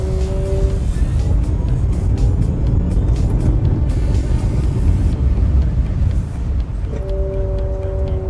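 Shineray X30L EV electric minivan accelerating hard on an empty road, a loud steady broadband road and wind roar with a faint rising whine, continuous close-up throughout.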